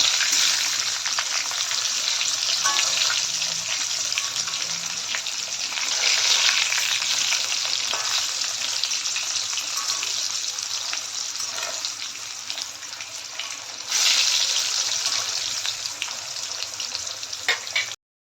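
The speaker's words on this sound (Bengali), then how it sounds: "আলুটাকে আমি সুন্দর করে লাল লাল করে ভেজে নেব।" Potatoes fry in hot oil for a fish-head pulao, a loud steady sizzling hiss that carries on for many seconds, swelling briefly now and then, with no talking.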